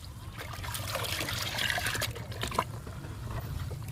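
Garden plant liquids are poured into water and mixed, giving a close, faint trickle and splash that swells briefly in the middle and then settles into a soft dribble.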